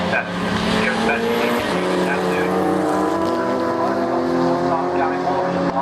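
Saloon and sports race cars climb Clay Hill at Oulton Park, engines roaring loudly and continuously with shifting pitch as they pass, while a commentator talks over the noise.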